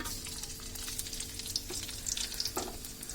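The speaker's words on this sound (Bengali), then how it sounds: "হালকা একটু ভেজে নেব।" Chopped garlic frying in oil produces a dense, close sizzle with crackling spits and occasional stirring scrapes, continuous throughout and free of talk.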